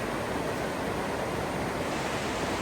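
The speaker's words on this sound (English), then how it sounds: "This is the sound of Big Falls," Upper section of Big Falls waterfall in the Snowbird Wilderness, a steady broadband roar of rushing water, loud and unbroken, with no voices.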